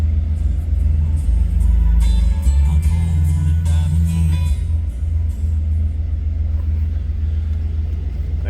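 A 1966 Chevrolet Impala SS two-door hardtop rumbles at a steady low idle, heard up close with a few brief higher engine swells early on and no talk.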